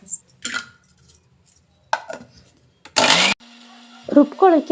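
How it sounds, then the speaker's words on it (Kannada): A mixer grinder whirs in one short, loud burst grinding garlic chutney amid kitchen clatter, followed by people talking. "ಮಿಕ್ಸರ್"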